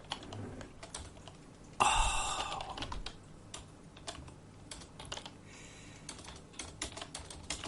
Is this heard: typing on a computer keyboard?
yes